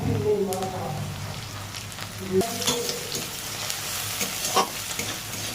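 Garlic frying in a pan, a close, steady sizzle with stirring scrapes and a few louder spatters, with faint voices underneath.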